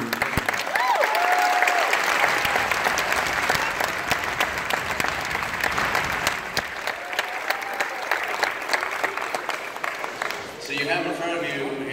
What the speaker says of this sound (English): How about a round of applause for a wonderful group